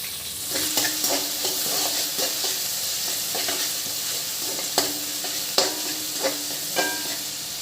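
Sliced onions and green chillies fry in hot oil with whole spices for mutton keema curry, giving a steady close sizzle broken by regular clinks and scrapes of a stirring spoon.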